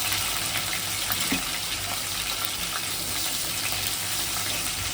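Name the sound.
whole spices (cinnamon, cardamom, cloves, cumin) frying in oil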